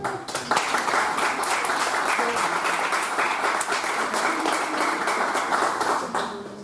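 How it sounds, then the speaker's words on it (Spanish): A church congregation applauds to welcome a baby girl being presented. The clapping is warm and continuous for several seconds and fades slightly at the end. "Le damos un aplauso."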